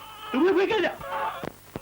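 A single wavering bleat rises and falls for about half a second, likely a voice imitating a sheep, followed by a few short clicks and breaths.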